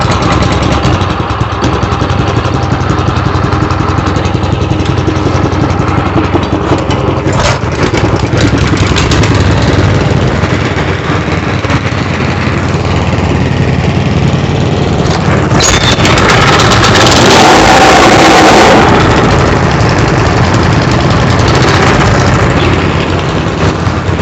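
Three Honda GX160 engines on plate compactors run together, a loud, continuous, steady idle drone with rattling, and a brief louder surge partway through.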